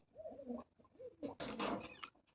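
A pair of domestic pigeons, one with a white chest, coos up close in a couple of soft rolling bursts, followed by a brief rustle of wings or handling.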